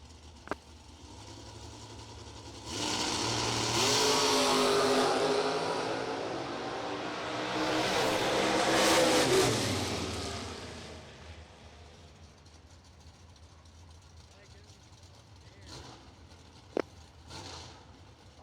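A blacked-out Corvette Roadster and a Camaro Roadster launch side by side at a drag race, a loud roar that rises suddenly, holds for several seconds, then fades into the distance, leaving a few faint clicks.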